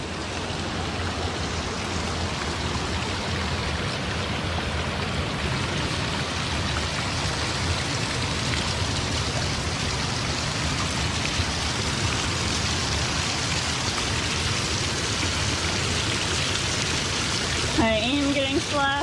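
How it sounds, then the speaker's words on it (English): Steady, dense rush of splashing water from a waterfall on the Eye of the Needle trail, Buffalo National River, Arkansas, loud and close throughout; a brief voice or whoop rises near the end. "Made it to the waterfall."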